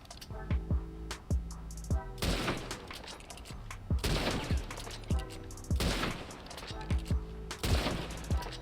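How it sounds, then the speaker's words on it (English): Springfield rifle firing in Red Dead Redemption 2 Online, a series of sharp loud gunshots with booming echoes, spaced every second or so amid overlapping in-game shots and a steady musical drone. "Okay, here's the Springfield rifle."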